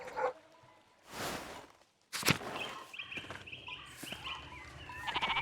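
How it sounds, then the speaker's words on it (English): Sheep bleat in a pastoral scene from the video game Pentiment, with several short bleats overlapping amid a bustling soundscape of footsteps and a broad whooshing burst, mostly moderate and mid-distance with no talk. "I'm not able to see what the commotion is about because all the sheep are in the way"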